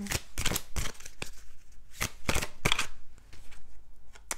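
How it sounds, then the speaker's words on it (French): Card drawn from a deck, a run of quick papery riffles and swishes in short bursts with gaps between, close and soft, with no voice heard. "on va sortir la seconde carte"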